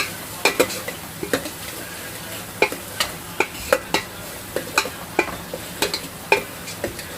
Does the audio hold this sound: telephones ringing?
no